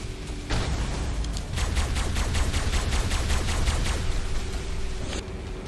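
Rapid automatic gunfire pounding base walls during a raid in Ark Survival Evolved, a dense unbroken burst of shots lasting several seconds, loud and close, with no talk.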